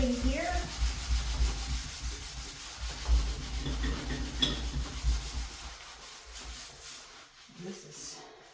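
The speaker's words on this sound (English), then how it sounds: "Just needs a little harder scrubbing here." A stained bathroom sink, apparently spattered with paint, is scrubbed hard by hand in a continuous close, rough rubbing that gradually eases off toward the end.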